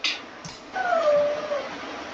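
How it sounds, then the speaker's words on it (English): A dog lets out a single long, high whine that slides downward, close and fairly clear, after a brief sharp sound at the start. "Why are you whining, doggy?"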